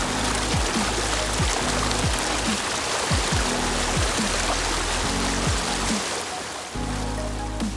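The Eightmile River in Connecticut rushes past as a loud, continuous wash of flowing water, close by, with repeated low thumps underneath.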